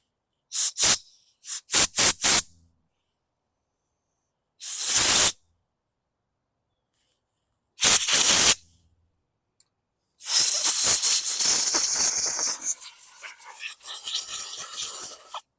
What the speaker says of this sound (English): So we'll put some air pressure to this.